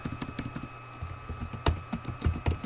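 Rapid keystrokes on a computer keyboard, irregular and fairly close, with several sharper, louder key presses standing out near the end, and a faint steady electrical hum beneath.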